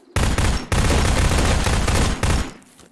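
Rapid PPSh submachine gun fire in ZERO Sievert, loud sustained automatic bursts close up, broken by two brief pauses, with no talking.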